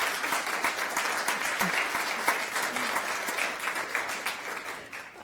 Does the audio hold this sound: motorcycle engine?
no